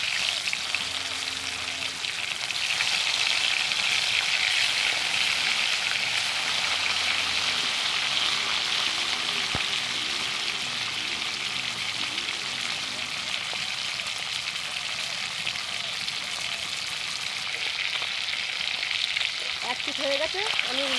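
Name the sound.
fish frying in hot oil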